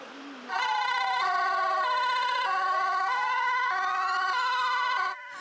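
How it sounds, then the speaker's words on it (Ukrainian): Loud, sustained fire engine sirens wail and overlap, their pitches rising and falling for about five seconds before cutting off. "Усе це під супровід сирен та фонтани води з пожежних рукавів"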